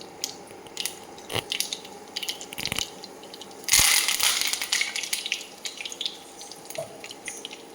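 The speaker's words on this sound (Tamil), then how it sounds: "எண்ணெய் சூடாகையும் கடுகு போடணும் கடுகு பொரிஞ்சிருச்சு" Mustard seeds splutter and crackle in hot oil while a small amla pickle is being made, a faint, irregular popping and sizzling close by with a louder burst partway through.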